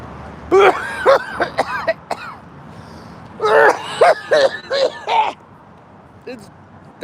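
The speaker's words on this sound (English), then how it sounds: "A better, higher quality cartridge doesn't make me cough like that." Harsh coughing fits after vaping a cheap, low-quality cartridge: two clustered bursts of throaty, raspy coughs with a few isolated hacks trailing off. The coughs are close and loud, with a faint background hum and no speech.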